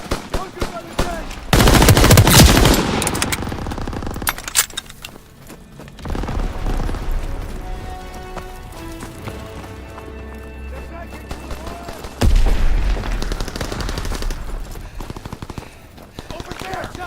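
Rapid bursts of automatic gunfire and impacts in a Call of Duty WW2 team deathmatch battle, with loud clusters of shots around a tank and bunker, heavy booms, and shouted voices over the din.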